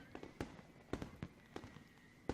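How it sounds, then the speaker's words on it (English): Fireworks explode in the night sky above a school in the Katawa Shoujo visual novel: a quiet series of sharp pops and crackles spaced irregularly, with a faint high whistle running underneath. "Fireworks."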